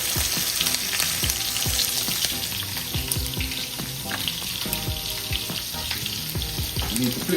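Shrimp sizzle steadily in a hot pan for escovitch shrimp, a loud continuous frying hiss with faint stirring and scraping bumps, heard up close with no voices.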